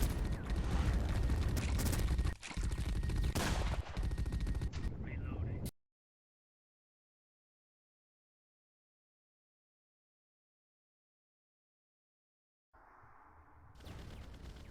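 Gunfire and explosions from shooting barrels in the video game The Red Solstice come as loud dense blasts and rattling, then a long silence and a quieter return of noise at the end.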